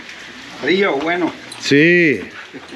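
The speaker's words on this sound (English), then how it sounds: "it's raining. Like a lot" Heavy rain falls outdoors near Cueva del Indio in Arecibo, Puerto Rico, a steady, even hiss running under people talking close by.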